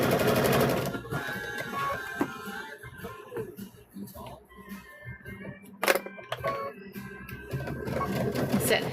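Sewing machine stitching a quarter-inch seam on a quilt binding, a rapid mechanical whir in bursts at the start and end with quieter handling noise and someone speaking between.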